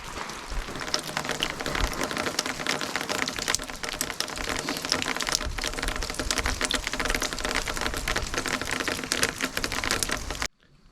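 Rain falls steadily on an off-grid building site under construction, a dense, even patter with sharp drops striking a hard surface nearby, continuing for about ten seconds before cutting off abruptly.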